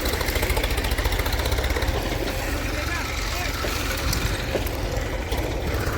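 A tractor engine runs steadily at close range while fertilizer is being unloaded on a farm field, a rough, continuous mechanical rumble with a faint knocking edge, and people talk over it.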